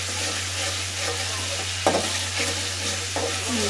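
Chicken and half a kilo of mixed vegetables stir-fried in a pan, a steady close sizzle with scraping stirs and a sharp clack of the utensil partway through, alone without talk.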